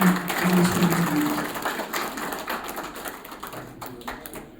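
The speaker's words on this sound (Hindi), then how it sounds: "जोरदार तालियों से" An audience at a district-level award ceremony in Leh applauding, a thick wash of many hands clapping that starts loud and gradually thins out, with a faint voice at the start.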